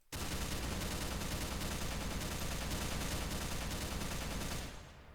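A light machine gun from a Minecraft weapons mod fires in one loud, unbroken rapid burst lasting about four and a half seconds, then cuts off abruptly. No voices are heard.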